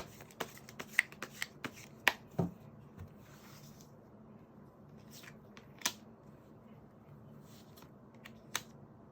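Tarot cards shuffled by hand, a soft riffling under quiet background with several sharp snaps and taps of cards spaced irregularly, close and faint.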